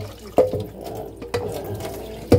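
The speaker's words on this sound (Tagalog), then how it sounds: "Tapos, idaan na lang natin ang tubig." Water splashes into a cooking pot of mung beans and pork hock, with a few louder splashing bursts over a low steady rush, close by and without talk.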